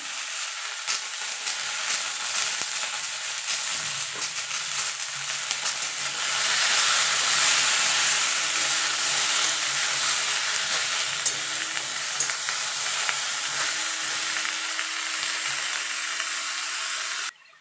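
Shish palong vegetables fry in a pan with a steady, hissing sizzle that swells louder partway through. Occasional stirring scrapes break in, close by, and no one talks.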